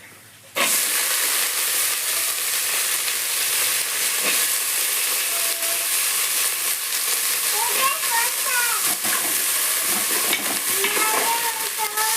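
Washed green peas drop into a frying pan of cashews and ginger, setting off a sudden loud sizzle that holds as a steady close hiss, with light stirring and a faint voice in the background.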